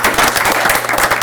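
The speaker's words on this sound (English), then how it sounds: "Let's give him a round of applause." Loud, dense applause at a school district board meeting, a continuous close wash of many hands clapping for an elementary school student leader.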